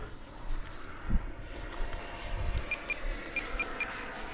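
An FMS F-86 model jet on its maiden flight whooshes overhead with a steady electric ducted-fan hiss, fluctuating as it passes at moderate distance, with a few faint high beeps late on.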